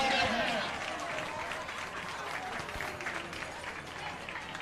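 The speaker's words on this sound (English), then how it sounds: "A lot of clapping going on for unknown reason." Crowd clapping at a high school football game, a steady wash of many hands in the stands with voices and crowd noise mixed through it, fairly distant and continuous.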